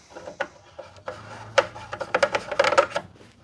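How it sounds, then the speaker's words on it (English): The front lens of an Olympus SZX10 stereo microscope is put back on, with a run of scraping, rubbing and small metallic clicks that grows busier toward the end, close and alone. "We're gonna put the front lens back on."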